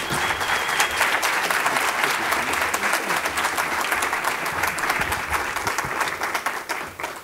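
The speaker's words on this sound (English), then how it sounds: "Please give him a big round of applause." A conference audience at the Global Climate Action Summit breaks into sustained, dense applause to welcome a speaker to the stage, loud and even throughout before tapering slightly at the end.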